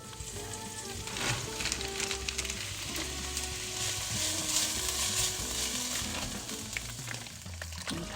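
Hijiki soy sauce pasta from a meal kit stir-fried in a frying pan, a steady close sizzle with scraping and tossing of the ingredients running throughout, no voices.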